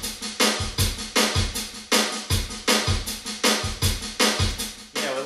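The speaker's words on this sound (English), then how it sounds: "came across one called Twist Pop. It's in the oldies category and it sounds something like this." Arranger keyboard playing a Twist Pop rhythm style from the oldies category on a Roland Atelier, punchy drums and accompaniment in a bouncy repeating beat, loud and clear with no voices.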